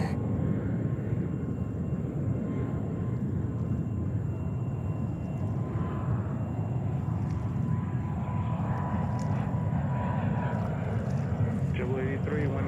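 Garuda airliner taxiing at JFK airport, a steady broad jet engine roar with a faint whine, constant and moderately near, with radio chatter faintly in the background.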